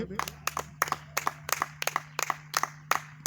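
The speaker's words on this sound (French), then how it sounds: "Est-ce qu'on peut l'acclamer?" Applause and cheers from a church congregation, with clustered bursts of clapping repeating roughly every third of a second over a steady low hum, moderately distant.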